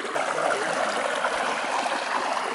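A small waterfall pours into a pool, a close, steady splashing and trickling rush with no one speaking.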